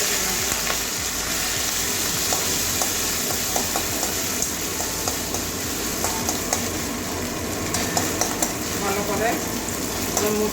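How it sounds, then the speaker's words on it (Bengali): Prawn heads coated in salt and turmeric frying in hot oil, a loud, dense, continuous sizzle and crackle close by, with faint clinks late on. "তেল গরম হয়ে গেছে এবারে মাছের মাথাটা নুন হলুদ মাখিয়ে রেখে আমি দিয়ে দিলাম"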